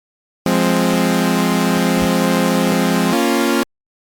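A default Serum synthesizer patch drones as a raw, buzzy oscillator tone, one sustained harsh note held about three seconds that steps to a slightly different pitch near the end before cutting off abruptly.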